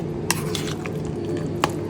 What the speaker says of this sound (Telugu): తాలింపు పెడతానమ్మా పచ్చడి